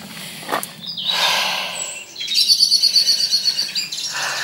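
Birds chirp and trill in a local nature reserve near Winscombe, a few clear calls close by followed by a rapid twittering run, with no talking.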